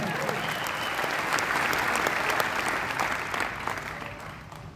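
A church congregation at a revival service breaks into sustained loud applause mixed with shouts of praise, a dense roar of clapping that swells and then slowly tapers off.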